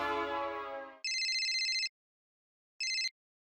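Phone ringing while a call is placed in a Hindi comedy scene: after a brief musical tone, two electronic ringtone bursts sound, a long one and then a short one after a pause, clear and close.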